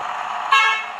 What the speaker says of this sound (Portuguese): Aqui tem uma buzina.